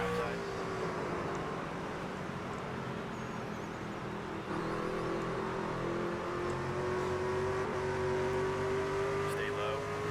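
A NASCAR stock car engine in the NASCAR 25 video game drones steadily at high revs throughout, its pitch sliding gradually upward, with a faint voice underneath.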